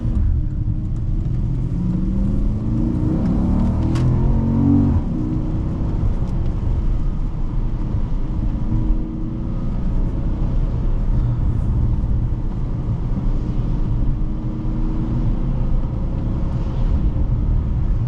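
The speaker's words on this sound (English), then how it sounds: "This V8 sounds incredible." A 2013 Porsche Panamera GTS V8 sounds from inside during driving: a steady, loud low engine rumble and road drone, with a rising rev swell early on, then continuous cruising hum with no talking.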